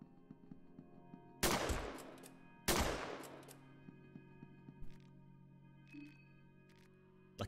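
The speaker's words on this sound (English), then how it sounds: "So I'm gonna trench gun these guys, actually." Two loud, sharp trench gun blasts in the horror video game Fear & Hunger 2: Termina, spaced about a second apart, each with a short decaying tail, followed by fainter in-game clicks and thuds.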